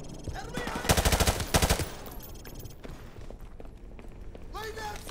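Suppressing gunfire in Call of Duty 4: Modern Warfare Remastered, on the Charlie Don't Surf mission: a loud burst of rapid automatic fire in two tight volleys near the start, then quieter battle noise and scattered shots under shouted speech.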